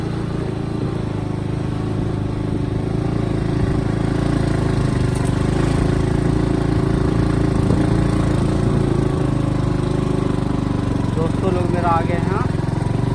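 Royal Enfield Bullet motorcycles idle near a Buddhist cave temple in Bihar, a loud steady low engine chug throughout, with people talking in the background.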